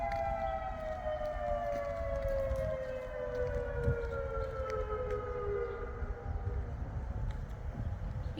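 Civil defense siren wailing during its monthly test, a long steady tone slowly falling in pitch as it winds down, heard outdoors with a second distant siren also fading, over low background rumble.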